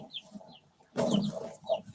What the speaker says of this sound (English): The one chicken got a moth.